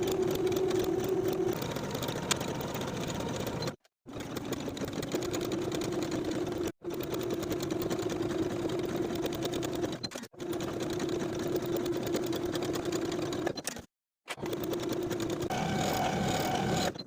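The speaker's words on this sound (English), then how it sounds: "Now I'll sew both of my shoulder seams and both of the side seams for the lining in the main piece" A sewing machine runs a stretch stitch along the shoulder and side seams of a swimsuit lining, buzzing steadily in five long runs separated by brief pauses.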